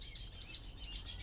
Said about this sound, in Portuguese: E olha aqui os passarinhos, ó.